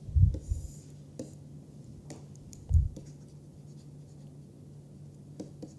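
Chalk or a marker scratches and taps on a board during a mathematics lecture. The short strokes and knocks come at scattered intervals in a quiet room.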